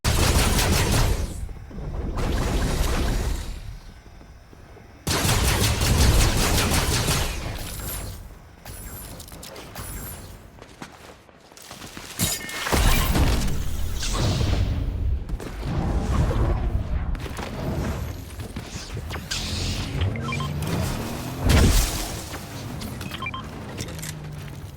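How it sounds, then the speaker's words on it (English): Gunfire, crashes and explosions in a video game as a vehicle is wrecked: dense bursts of rattling automatic fire and heavy booms come in loud waves, broken by short lulls, with mechanical clanks and creaks between them. "Zadie destroyed a vehicle"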